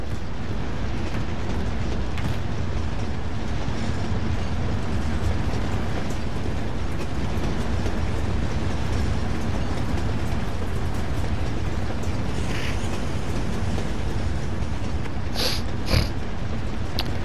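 Steady, dense rumbling roar of a moving train in Call of Duty: Modern Warfare runs throughout, loud and continuous, with a few brief higher-pitched hisses near the end.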